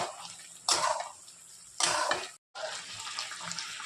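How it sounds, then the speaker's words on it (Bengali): Water is poured into a pan of eggplant and dried fish curry, a splashing, hissing stream in a few bursts with a brief pause, close and fairly loud. "একটু জল দিয়ে দেবো"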